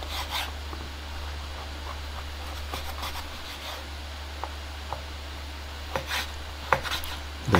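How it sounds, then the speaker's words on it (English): A knife dices ingredients for a butcher's stew on a cutting board: scattered rasping cuts and several sharper knocks that grow denser toward the end, close and fairly quiet over a constant low hum, with no talking. "Then just slice everything into tiny dices"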